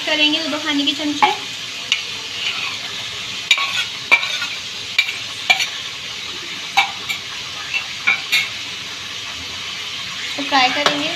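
Meat and garlic fry in a pan with a loud, steady sizzle close by, broken by occasional clinks and stirring sounds, with a voice briefly over the start.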